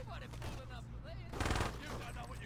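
Gunfire in the Saints Row 2 PC game: a burst of rapid shots near the middle of the clip, loud and close, over steady game background noise and low music.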